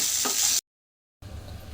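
Tomatoes and chana dal fry in a pan over low flame, a steady close hiss and sizzle that breaks off into a short gap of silence before resuming.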